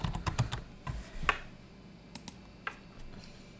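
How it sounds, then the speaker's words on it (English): Quiet keystrokes on a computer keyboard while entering symbols into a Word add-in, a few soft clicks in a loose irregular burst early on, then sparse isolated taps, fairly close with no talking. "Let's just type in symbols."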